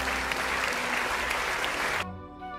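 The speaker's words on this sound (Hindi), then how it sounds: "तो हो जाए इस बात के लिए तालियां।" A circus show audience claps loudly and densely for about two seconds, then the applause cuts off abruptly and gives way to a quieter tonal sound.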